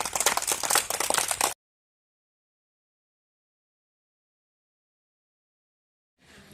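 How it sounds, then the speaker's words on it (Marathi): Students in a classroom clap together loudly for a short burst of dense applause that stops abruptly, followed by silence and a faint return of noise near the end. "सर्वांसाठी एकदा जोरात टाळ्या"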